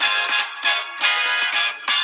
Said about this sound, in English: that's my alarm to tell me that I need to take my tablets